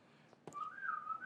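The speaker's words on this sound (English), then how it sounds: "That's the whistle." A person gives a single rising, sustained whistled tone, clear and fairly close, after a couple of faint taps, with no talking.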